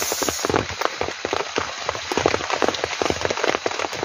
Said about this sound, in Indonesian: Hujannya benar-benar belum berhenti.